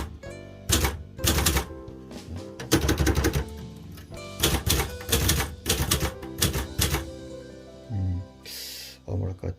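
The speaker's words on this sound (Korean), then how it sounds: "747TF도 이제 타이핑을 간단하게 보여드리면" A Clover 747TF manual typewriter is typed on up close in irregular bursts of sharp, loud key strikes with short pauses, ending with a brief mechanical whir.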